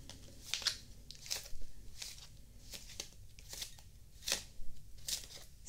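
Playing cards are shuffled in quick, crisp riffling bursts, repeated several times at close range with short gaps between.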